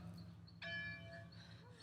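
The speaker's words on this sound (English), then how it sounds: "Ring the bell!" A single bell strikes once and rings out with a bright, sustained metallic tone that slowly fades, fairly quiet against a low background hum.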